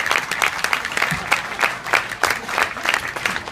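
At a cabaret show, the audience applauds in a lively burst, clapping with distinct rhythmic pulses that stay steady throughout.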